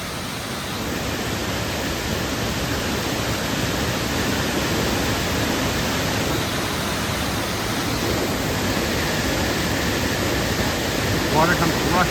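Water rushes out of a cove under a big rock dome at Purgatory Falls, making a dense, steady roar that stays loud and unbroken throughout.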